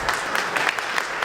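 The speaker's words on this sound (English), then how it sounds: "Let's give them a round of applause." An audience at a panel discussion with Pennsylvania lawmakers bursts into brief, dense applause, loud and close, with a steady wash of many hands clapping at once.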